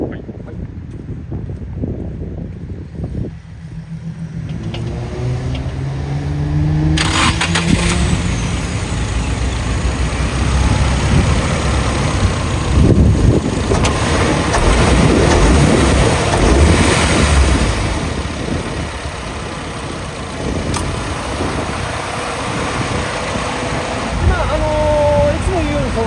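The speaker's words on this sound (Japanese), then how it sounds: "じゃあエンジンかけてみましょうね。" A red Nissan S15 Silvia with an SR20DET turbo engine and aftermarket muffler cranks and fires up after a quiet moment, settling into a steady loud idle with occasional blips, while someone talks over it.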